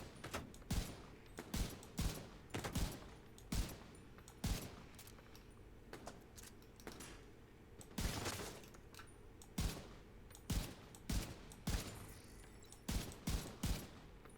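Rifle fire in The Division 2 rings out in rapid repeated bursts of sharp, loud shots with short pauses between volleys, steady in rhythm and unaccompanied by speech.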